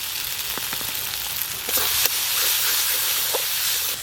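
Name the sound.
spices frying in pan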